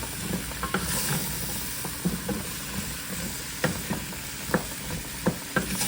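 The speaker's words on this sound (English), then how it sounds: "Stir this up good." Potato soup ingredients being stirred in a pot, a steady low sizzle and scrape with sharp spoon clicks against the pot at irregular intervals, close and moderately loud, no talking.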